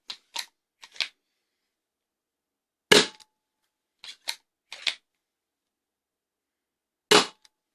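A Rifling SWIN Alien Blaster fires foam darts in sharp, close snapping shots. There are several single shots and quick pairs with silent pauses between them.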